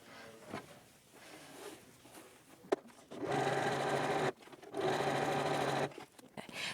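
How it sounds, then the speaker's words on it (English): A sewing machine stitching a tote bag runs in two sustained bursts of steady whirring, each lasting over a second, with quiet pauses and a brief click between them. "I'm just going to stitch that shut with my top stitch"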